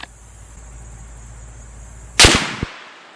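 Single loud gunshot from a T/C Compass bolt-action deer rifle fired at a range, a sharp crack after quiet outdoor hiss followed by a brief echo and a smaller knock.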